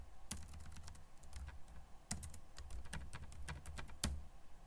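Password keystrokes on a computer keyboard while configuring a Cisco router over a console: quick, irregular taps in short bursts, with a few sharper, louder keystrokes standing out, close and alone.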